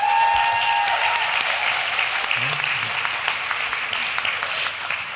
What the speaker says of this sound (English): let's just give a round of applause to our young panelists